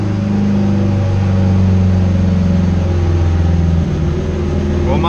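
A turbocharged Acura RSX strains on a dyno with VTEC engaged, its engine holding a loud, steady high-rpm drone that climbs slightly before easing off near the end.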